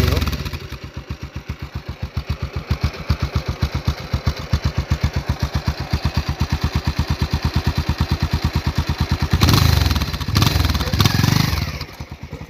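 A motorcycle runs close by with a rapid, rhythmic putter that rises into a louder rev near the end as it is ridden and parked, with brief voices nearby.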